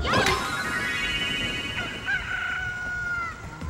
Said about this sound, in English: Was that the chicken from Ocarina of Time?